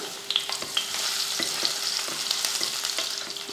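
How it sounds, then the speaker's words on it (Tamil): Five crushed garlic cloves fry in hot oil for a potato fry, a loud, continuous, close sizzle full of crackling pops, with no voices. "எண்ணெய் காஞ்சதுமே ஒரு அஞ்சு பூண்டு எடுத்து இந்த மாதிரி தட்டியிருக்கேன் சேர்த்துக்கலாம்"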